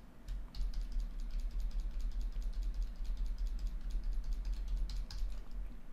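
Steady typing on a computer keyboard during a Photoshop editing session, a continuous run of quiet, fairly even clicks over a low background hum throughout.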